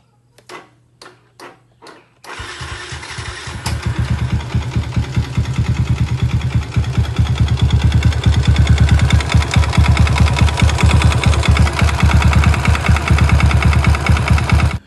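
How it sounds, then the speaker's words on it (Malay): A motorcycle engine, only three days into use, running with an abnormal noise: a few sharp ticks, then the engine starts and idles with a rapid, steady knocking rhythm that grows louder and persists, close up and alone. "motor customer aku ada bunyi sikit"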